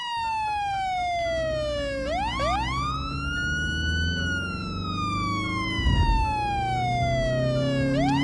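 Police car siren in a cartoon race between animal drivers, a loud wailing tone sweeping slowly up and down in long cycles over a low engine rumble.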